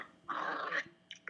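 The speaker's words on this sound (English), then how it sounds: "I'm playing with my dog at the same time" A dog growls while playing nearby, with a rough half-second growl and then two short, softer huffs or whimpers close to the listener.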